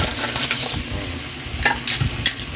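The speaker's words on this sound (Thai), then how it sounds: "ผัดไปเรื่อยให้หอม พอเราเริ่มได้แล้วเนี่ย เราก็ใส่หอยลงไปนะ" Clams stirred in a pan with basil, a scraping utensil clattering against the metal over a steady sizzle, with a few sharper clinks of shell and spatula close by.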